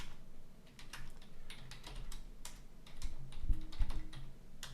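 Steady, quiet typing on a computer keyboard, with a continuous patter of keystrokes and a few heavier taps near the end, heard alone without talk.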